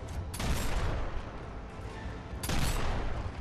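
A frag grenade detonates in Gears of War, with a heavy blast near the start and a second loud boom toward the end over a constant roar of combat noise.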